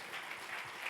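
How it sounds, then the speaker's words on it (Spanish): Applause from a church congregation, a dense wash of clapping hands filling a brief moment at steady volume. "Denle un aplauso a Jesús."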